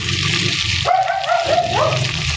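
A dog gives a drawn-out whining bark close by, rising and wavering, over a steady background rush like running water.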